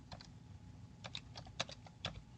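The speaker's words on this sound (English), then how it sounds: "if I type" Several quick keystrokes typed on a computer keyboard while editing a spreadsheet cell, sharp close clicks in short irregular bursts over a low steady hum, no voices.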